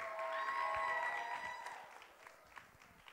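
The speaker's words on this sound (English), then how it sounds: "Y'all clap it up for Lauren one more time" A live audience at a radio station anniversary party applauds a performer, dense clapping at first that thins and fades toward the end, with faint crowd murmur and a few scattered claps.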